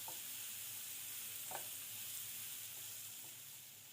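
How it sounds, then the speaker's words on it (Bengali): Chopped onions fry in oil left over from frying fish, giving a soft, even sizzle with a couple of faint stirring taps. "এবার একটু নাড়িয়ে চাড়িয়ে পেঁয়াজগুলো ভেজে নেব যতক্ষণ অবধি সিদ্ধ হয়ে না আসে"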